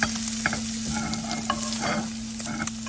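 Ground meat seasoned with salt, pepper and a little Ajinomoto sizzles steadily in a frying pan for a bibimbap, with repeated scraping and stirring strokes cutting through the constant fry, no voices.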